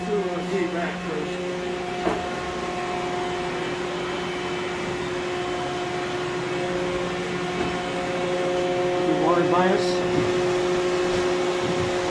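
A Union BFT105 boring machine hums steadily with tonal whines as its axes move, a few soft clicks and sweeping tones rising near the end.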